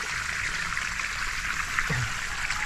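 A steady hiss of water rushing from an outlet, constant and moderately loud, with no voices.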